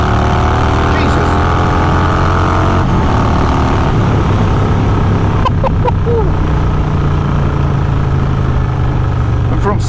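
A Harley-Davidson Fat Bob motorcycle accelerates hard through its gears, the engine note climbing in steady pitch sweeps with breaks for each shift, loud and close throughout.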